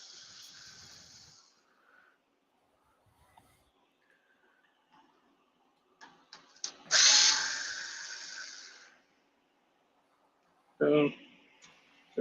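A power screwdriver drives screws into a Traxxas Sledge RC truck, with a sustained whir of a couple of seconds and a shorter burst later, separated by near-silent gaps, and faint voices in the background.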